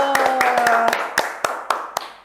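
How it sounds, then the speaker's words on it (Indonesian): A small group claps hands, a quick ragged burst of sharp claps followed by several spaced single claps fading out, with a short voice and a steady tone at the start. "Tepuk tangan dulu."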